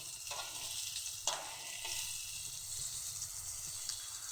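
Lightly parboiled flat beans fry in a pan, a soft continuous sizzle with occasional stirring clinks and scrapes, quiet and close with no talk.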